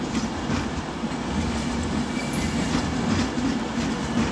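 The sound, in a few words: Pendolino train arriving at London Euston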